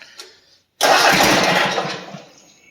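The small engine of a 317 garden tractor cranks briefly, then catches and fires up into a loud, steady running rumble close by.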